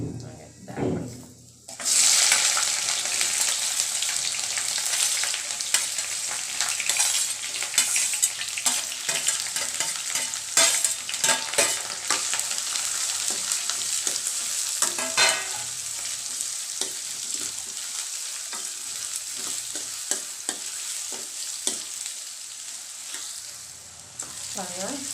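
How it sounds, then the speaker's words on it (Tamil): Onions and chana dal frying in a pan for brinjal poriyal: a steady, close sizzle of hot oil running throughout, with stirring scrapes and occasional spatters, starting after a short pause. "கடலப்பருப்பு நல்லா ஃப்ரை ஆகிடுச்சு. வெங்காயத்தை ஆட் பண்ணிக்கலாம்."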